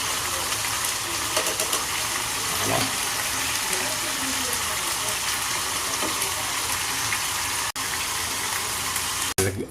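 Water gushes steadily into a cooking pot for salmon-head sinigang, a loud, continuous pour with sloshing, broken by two brief cuts, while a voice talks over it.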